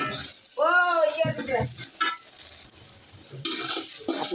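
Sliced onions dropped into hot, foaming pure mustard oil for a beef tehari, giving a steady close sizzle with stirring scrapes, partly under a voice talking over the pan.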